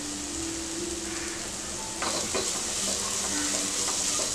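Masala with grated raw mango and coriander sautés on low heat, a continuous sizzle under a few scraping stirs of a spoon against the pan.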